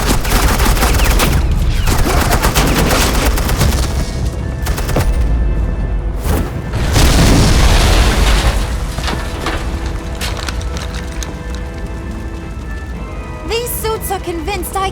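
Sustained suppressing gunfire in a Batman: The Enemy Within video game scene, a loud dense fusillade of rapid shots with booms and impacts running for the whole stretch, game voices faintly mixed underneath.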